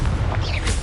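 A Confringo fire spell explodes in the Hogwarts Legacy video game, giving one short, loud, low boom with a crackling burst that fills the brief moment.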